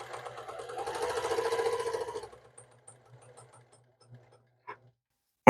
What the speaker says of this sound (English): you are managing the speed of the machine with the pressure of your foot on the foot pedal